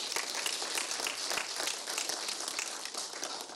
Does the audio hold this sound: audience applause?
yes